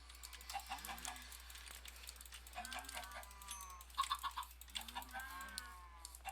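Minecraft chickens cluck in short repeated bursts at low volume, mixed with rapid keyboard typing and a constant faint hum underneath.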